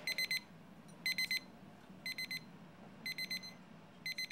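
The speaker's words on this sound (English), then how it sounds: "the buzzer signals it's time for her pills" Electronic buzzer alarm reminding that pills are due, sounding in regular bursts of rapid beeps about once per second, over a quiet room.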